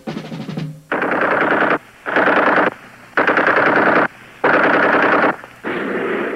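A machine gun firing in five long, sustained bursts, each one a loud, dense rattle of rapid shots separated by short pauses, heard alone with no talk.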